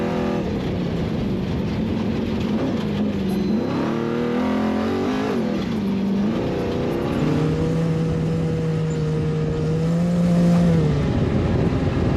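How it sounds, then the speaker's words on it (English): High-horsepower off-road race vehicle on the NORRA Baja rally stage from San Felipe to Bahía de los Ángeles, its engine roaring loud and close, revving up and down through gear changes before holding a steady high drone. "I just love listening to that big horsepower."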